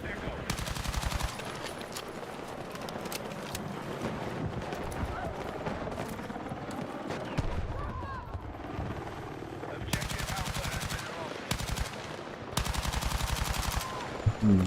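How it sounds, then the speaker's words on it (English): A video game machine gun fires in long, rapid bursts, loud and close, starting and stopping several times, with people talking between and over the shots. "It's a machine gun."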